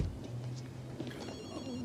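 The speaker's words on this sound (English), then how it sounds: "Another phone call!" A telephone rings in a TV drama, a bright electronic ring sitting over a busy, noisy background, heard alone without talk for a couple of seconds.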